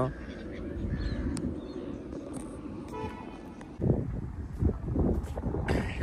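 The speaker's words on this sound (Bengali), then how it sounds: "ভিতরে মনে অনেক হাঁস আছে, নয় এরকম শব্দ হইবে কেন?" Ducks on the River Thames at North Greenwich honk and quack in a loose, repeated chorus, moderately close amid outdoor background noise, with a voice speaking in between.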